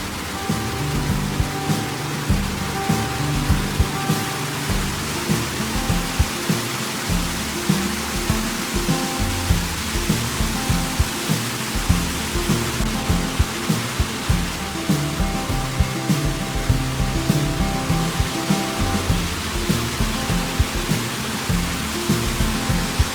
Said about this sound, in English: And now I will enjoy the waterfall.